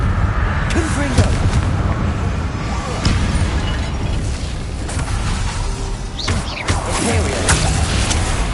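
A Confringo blast spell cast in Hogwarts Legacy, heard as repeated booming explosive bursts over dense, continuous game combat noise, loud and close.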